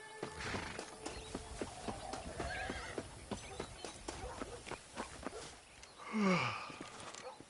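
A horse in the Red Dead Redemption remaster video game walks with steady clip-clopping hooves, then lets out a loud, descending neigh near the end.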